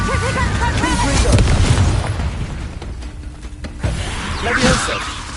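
The Confringo blasting spell from the Hogwarts Legacy video game bursts with a loud boom and crackling explosion, followed by a whooshing tail and a second flare of blast noise near the end.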